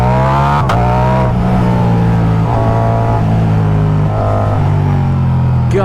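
A Ducati motorcycle with Brembo brakes and a 240-section rear tyre, its engine droning steadily and loudly while being ridden, with pitch rising and falling as the revs change.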